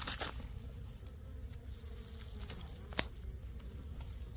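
Bees leave a hive that has been moved a short distance, giving a soft, steady buzzing hum with faint scattered taps and a couple of sharper knocks.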